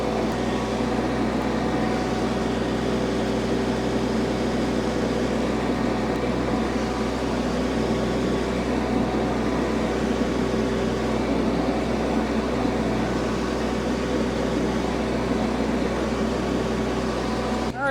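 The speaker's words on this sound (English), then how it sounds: "All right, it's sucking up most of the pine straw." An IBEX TX31 mini round hay baler picks up pine straw with a constant mechanical whir and hum, loud and steady throughout, with no break in the noise.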